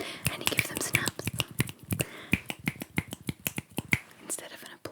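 Rapid finger snapping, close and crisp, in an irregular quick rhythm with dozens of sharp clicks, mixed with soft whispering.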